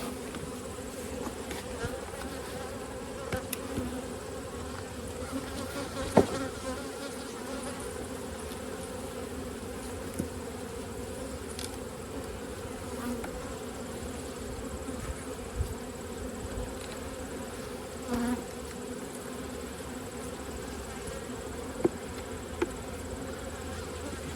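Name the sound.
honey bees buzzing around hive during fall inspection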